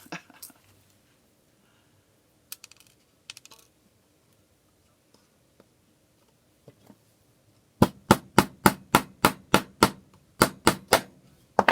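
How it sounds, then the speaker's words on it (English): A hammer strikes the folded edge of a tin art piece in a quick run of about ten sharp, evenly spaced metallic taps, loud and close, preceded by a few scattered light knocks and handling clicks. "you want to give it a good hammer so that you have a nice sharp corner"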